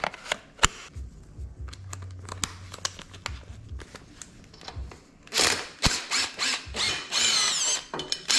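Ratchet wrench working loose the bolts on the rear sprocket and disc brake of a fat tire motorized board track racer bicycle, heard as close sharp clicking bursts with metallic rattles, heavier clattering toward the end.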